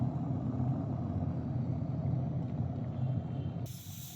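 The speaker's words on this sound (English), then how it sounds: "So this is boiling at 90 degree." Water coming to a boil at about 90 degrees in a Portronics Thermosip vacuum-insulated travel kettle, a steady close rumbling bubble that runs throughout and ends in a brief brighter hiss, with no talking.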